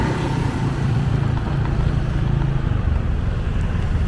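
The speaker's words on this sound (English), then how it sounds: "now we are on the moped." A moped ridden through Pattaya streets, with steady broadband rumble of the engine and rushing wind buffeting the microphone throughout, loud and continuous with no talk.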